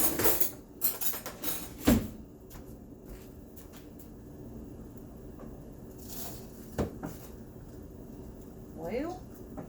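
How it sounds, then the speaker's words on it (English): Kitchen rummaging for a knife by someone with greasy hands: scattered clinks of cutlery and dishes, a sharp clatter early on and lighter knocks and rattles later, fairly close, with quiet stretches between. "Let me get a knife."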